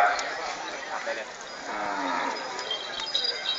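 Cattle mooing at a cattle show in Thailand, several drawn-out lowing calls close by amid a crowd's background murmur, with faint voices underneath.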